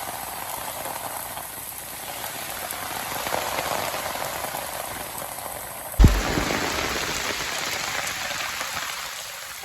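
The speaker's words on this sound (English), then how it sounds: "a storm kicked up and I was thoroughly drenched in about 30 seconds" Heavy jungle rainstorm in Indonesia pours in a steady, dense hiss of drops on surfaces, with a sudden thump midway and the downpour continuing loud and close.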